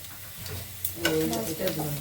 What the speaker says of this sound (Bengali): এখন ডাল তেলে দিয়ে দিচ্ছি